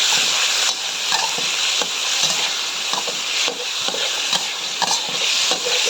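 Sliced pork stir-fries in a hot pan with a continuous loud sizzle and regular scraping strokes of the spatula, close and steady throughout.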